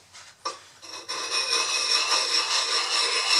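Norton sandpaper rasps steadily and closely across a vintage Craftsman double bit axe head, starting with a few scuffs before settling into a continuous rubbing grind.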